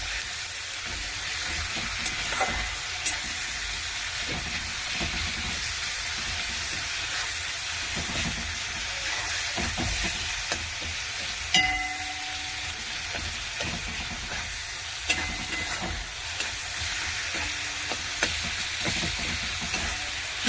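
Spice masala frying steadily in a pan for fish-head lentil dal, a loud continuous sizzle and hiss with occasional light stirring clicks throughout.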